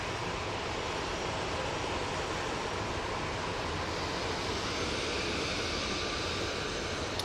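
An EasyJet airliner at Manchester Airport, its engines producing a steady broadband roar that holds loud and unbroken for seven seconds.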